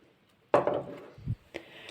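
Ground tomatoes stirred into minced sweet peppers for adjika give a sudden clatter of a utensil against the pot, a dull low knock, then a short sharp tap, all close and fairly quiet with no talk.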